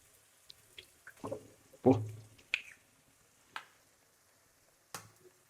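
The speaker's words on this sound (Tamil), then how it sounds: "இப்போ வந்து முட்டை உடச்சி ஊற்றிக்கலாம்" An egg is cracked and poured into a pan of oil-coated vegetables with leftover chapati for egg podimas, giving a sharp crack followed by a soft wet spill, with scattered quiet taps and clicks around it.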